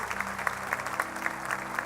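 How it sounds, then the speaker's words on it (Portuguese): A Sunday evening church congregation claps in a quick, steady rhythm of sharp, evenly spaced beats, a brief round of applause for Jesus with faint voices mixed in. "Salva de palmas para o Senhor Jesus."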